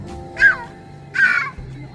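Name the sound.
birds calling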